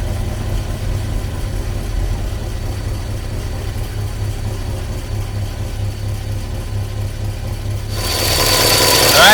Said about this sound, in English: Alright, so we're under the hood, idling really nice.